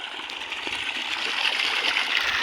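Water gushing from a new Falcon motor pump fitted in a borewell in a farm field, a steady rushing hiss and splatter that swells slightly louder over the moment, close by.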